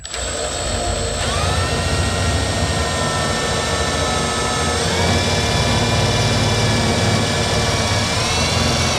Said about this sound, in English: I'll get a light in here and then we'll drill it out